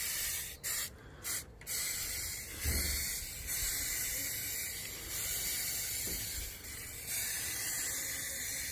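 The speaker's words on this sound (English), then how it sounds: "just spray both sides" Bursts of aerosol spray paint hissing on and off, close by, several short sprays followed by longer steady ones with brief pauses between.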